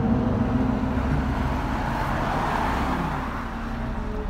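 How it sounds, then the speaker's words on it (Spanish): A car passes on a foggy road, a steady engine and tire rumble that stays fairly close before slowly fading, with no talk over it. "Hay un carro."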